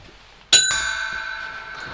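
A cymbal from a Loota Percussion professional bundle is struck once, giving a sudden bright metallic crash that rings on with a long shimmering sustain and slowly fades.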